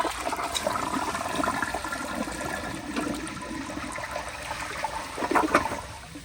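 A 2000 elongated Crane Plumbing Galaxy toilet flushes with a steady, close rush of water that swirls and gurgles for several seconds, with no one speaking.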